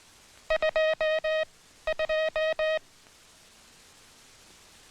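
Morse code sent on a properly adjusted telegraph key, two crisp bursts of evenly spaced beeping tones with a short gap between them, then quiet hiss.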